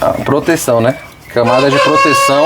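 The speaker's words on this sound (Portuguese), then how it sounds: "Olha o galo cantando aí." A rooster crows close by, its drawn-out calls overlapping a person speaking Portuguese in a rural outdoor setting.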